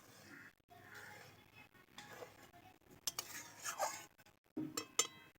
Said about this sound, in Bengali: এবারে খুন্তির সাহায্যে বাদাম বাটাটাকে আমি খুব ভালো করে মিশিয়ে নেব দুধের সঙ্গে